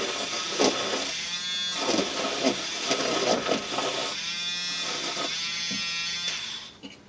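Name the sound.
electric whisk frothing butter into coffee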